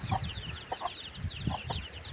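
Chickens clucking in short bursts, several birds close by, with soft low scratching and rustling underneath and a faint high chirping in the background.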